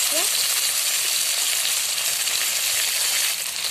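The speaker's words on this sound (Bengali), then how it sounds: "মাছ ভাজাগুলোকে উল্টে নেব একটু।" Pieces of shol fish fry in a pan with a bright, continuous sizzle that stays steady and close throughout, without pauses or voices.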